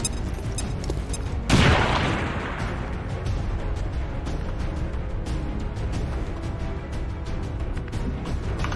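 A grenade explodes in the video game XCOM 2, a single loud broadband blast that trails into a decaying rumble amid steady game noise.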